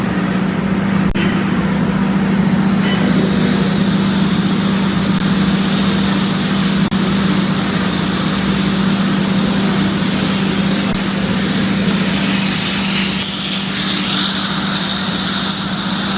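Compressed CO2 gas rushes from an opened cylinder valve in a steady, loud hiss that continues unbroken, with a low hum underneath.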